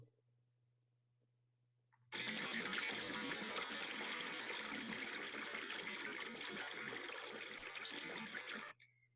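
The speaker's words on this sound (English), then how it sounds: "It's the sound of water to talk about the Chinook salmon." Rushing water in a Pacific Northwest setting tied to Chinook salmon, a steady broadband gush that starts abruptly after a quiet hum, holds loud and even for several seconds, then cuts off sharply.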